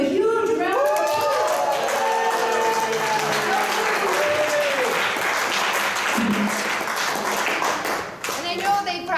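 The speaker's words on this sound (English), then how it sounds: "So give them a huge round of applause." Audience applause at the 2019 New York Dignity Workshop honoring careholders: sustained, dense clapping from a room full of people, steady and loud throughout, with voices talking over it.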